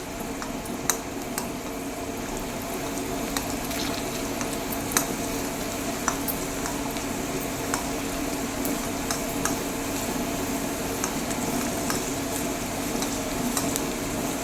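Raisins frying in ghee give a steady, even sizzle throughout, with occasional small clicks of a utensil stirring in the pan.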